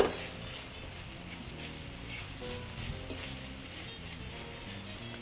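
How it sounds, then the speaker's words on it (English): Steady sizzling of hash browns frying in a hot pan, a continuous crackling hiss with faint background hum, no talking. "I hear it starting to sizzle now"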